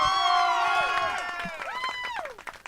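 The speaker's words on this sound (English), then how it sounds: "Let's give them a round of applause." Crowd cheering and clapping for a district major softball championship team after their 4-1 win, with shouts and whistles under a broadcast announcer's voice, fairly loud and steady before easing off.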